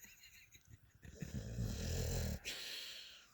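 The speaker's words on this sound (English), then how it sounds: "You snoring?" A dog snoring nearby in a quiet room, a few soft breathy snores building to a louder rumbling snort that cuts off abruptly, then resumes faintly.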